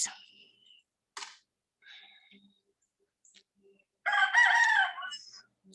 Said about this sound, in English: Are those chickens? Yes, those are our chicken.